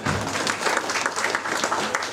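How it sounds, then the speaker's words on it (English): Audience clapping in a conference hall, a brief lively burst of many hands with uneven rhythmic peaks, fairly close and moderately loud, with faint voices underneath. "So I was expecting a clap here"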